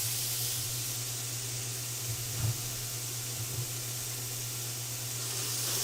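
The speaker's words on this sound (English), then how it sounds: "You want to hear that sizzle?" Onion sizzling in a hot pan while chicken tortilla soup is made, a steady broadband hiss with faint crackles and a low hum beneath, continuous and close with no talking.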